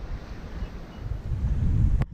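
Gusty wind buffeting the microphone aboard a Bavaria 41 sailing yacht under sail, rising and falling in surges with water noise beneath and a brief sharp knock near the end.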